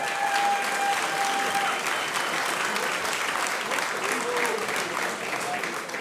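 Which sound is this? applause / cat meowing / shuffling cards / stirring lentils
applause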